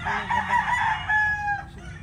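A rooster crows loudly and close by, a drawn-out call lasting over a second, over a low bed of hens clucking among a group of seven laying hens.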